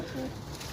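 A pigeon gives a short, low, soft coo at fairly close range against faint background noise, lasting under a second.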